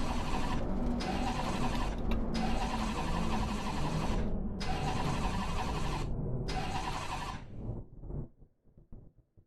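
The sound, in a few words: race car engine starting in Assetto Corsa Competizione video game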